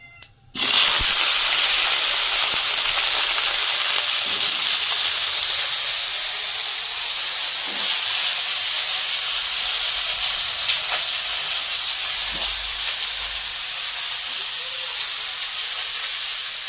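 Potatoes fry in hot oil with a loud, steady hiss that starts abruptly and carries on evenly, close up and without voices.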